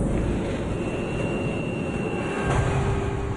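Steady broadband roar of an airliner in flight buffeted by jet stream turbulence, a continuous engine and wind rush with a brief swell in intensity near the end, no voices.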